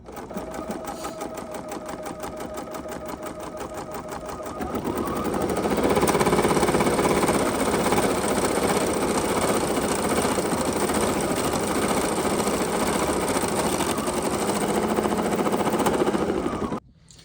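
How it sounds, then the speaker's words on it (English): Bernina sewing machine basting stitches on poly mesh held in a medium clamp hoop, a fast continuous mechanical whir that steps up in speed partway through and stops abruptly at the end. "now I'm just going to simply baste"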